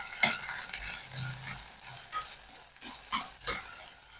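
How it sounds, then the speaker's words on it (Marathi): Chopped tomato and ginger-garlic paste are sautéed in a pan with a spoon, giving soft stirring scrapes and a light, quiet sizzle in a few short bursts. "आता मध्ये घालूयात बारीक चिरून घेतलेला टोमॅटो आणि 1 चमचा आलं लसूण पेस्ट आणि पुन्हा याला मिनिटभर परतून घेऊया"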